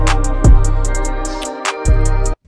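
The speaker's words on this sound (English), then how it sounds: "Then we can add a snare for more bounce." A loud FL Studio beat loop with a snare added: heavy bass kicks and sharp snare cracks punch in rhythm over a sustained synth pad and ticking hi-hats, stopping abruptly near the end.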